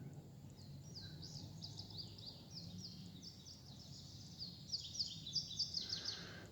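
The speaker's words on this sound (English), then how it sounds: "But what you hear there is an indigo bunting." An indigo bunting sings in mixed woodland, a faint run of high, quick paired chirping phrases repeated over a soft background hum, growing slightly louder near the end.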